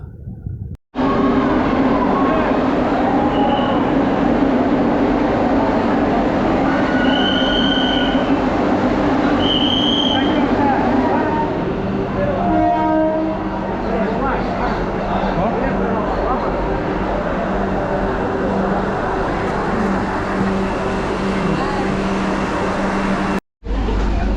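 Vande Bharat Express on its inaugural run from Chennai to Nagercoil via Madurai: a loud, continuous rumble of carriages and wheels on rails, with brief squeals and a steady roar lasting throughout, plus faint voices underneath.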